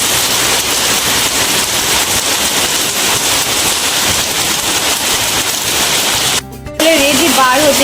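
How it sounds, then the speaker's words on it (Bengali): Heavy rain pouring outside near a college campus, a loud, dense and continuous hiss that briefly drops out, then returns with a faint tonal sound over it. "প্রচণ্ড পরিমাণে বৃষ্টি এসছে"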